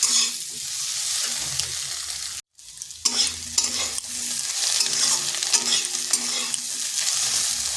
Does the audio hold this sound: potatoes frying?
yes